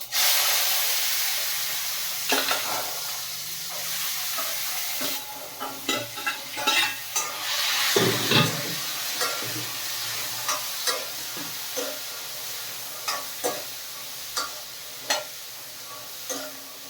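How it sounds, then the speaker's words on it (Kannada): Spices for a tempering crackle and sizzle in hot oil in a home kitchen, a continuous close hiss punctuated by repeated sharp pops and spatula stirring scrapes, with no talking. "ಸೊ ಇಷ್ಟೇ ಸಿಂಪಲಾಗಿ ಒಗ್ಗರಣೆ ಕೊಡ್ತೀನಿ"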